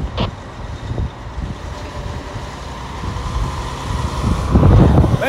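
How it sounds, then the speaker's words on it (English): Gusty wind buffets the microphone outdoors beside a railroad track with low rumbling bursts, swelling stronger and louder toward the end over a distant droning hum. "Wow, it's windy out here."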